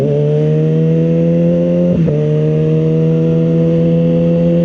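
Ducati SuperSport motorcycle ridden at a steady pace, a loud continuous engine drone with a brief dip like a gear change midway, then resuming evenly, no talk.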